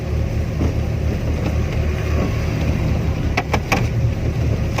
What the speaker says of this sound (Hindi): ये देखें कितनी आवाज़ें गाड़ी में आ रही हैं।